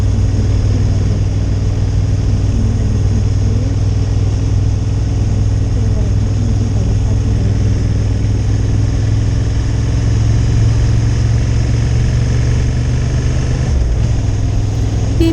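A 2023 Honda Hornet 750 motorcycle engine runs steadily at low revs, a smooth continuous drone with a slight rise near the end, with wind rushing throughout.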